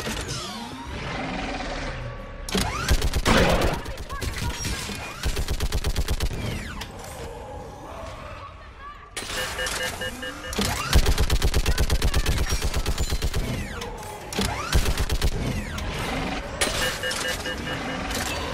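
Heavy automatic gun turret fire in a Mass Effect 3 battle on Thessia, long rapid bursts of shots that stop and restart, loud and close, with shouted voices and explosions mixed in.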